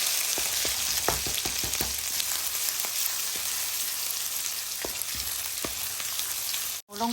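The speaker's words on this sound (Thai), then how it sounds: "ใส่น้ำมันลงไปค่ะ ใส่สามเกลือลงไปค่ะ ผัดให้สามเกลือหอมนะคะ" Garlic stir-fries in hot oil with a dense, bright, steady sizzle and crackle, broken by scattered clicks of a utensil against the pan, nearby and without talk.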